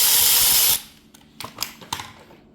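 A power tool works loose the cam holder bolts on a Toyota Valvematic engine: a loud, steady burst of high-pitched whirring that cuts off abruptly, followed by a few scattered metallic clinks and knocks close by.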